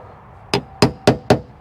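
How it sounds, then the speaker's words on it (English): Four sharp hammer blows strike a body panel of a 2014 Dodge Charger in quick, fairly even succession, close and loud, with no talking. "Hammer it down a little bit."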